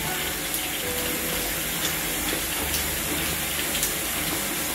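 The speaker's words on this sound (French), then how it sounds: "Donc ça c'est un bain." Tap water pours steadily into a bathtub at home for a spa evening, a constant close rushing with no pauses and no voices.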